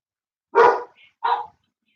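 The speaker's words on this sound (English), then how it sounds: "He barking because he's spoiled." A dog gives two sharp, close barks about half a second apart, with a faint yip between them and silence around.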